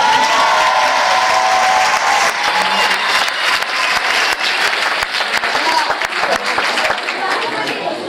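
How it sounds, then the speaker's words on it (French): A festival crowd applauds Father Jean-Michel with sustained clapping and scattered cheers that hold strong for several seconds, mixed with crowd chatter and voices. "on applaudit le Père Jean-Michel"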